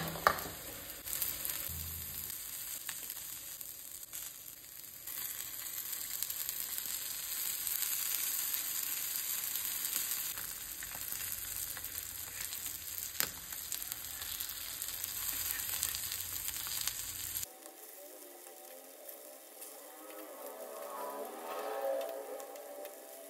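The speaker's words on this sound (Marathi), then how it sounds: "हे जे नुस्तें आमी आतां कोट केलां पळय न्हू तें भाजून घेवया." Coated fish frying in hot oil on a tawa for a Goan fish thali: a continuous crackling sizzle, close and moderately loud, that cuts out abruptly near the end, leaving a quieter background.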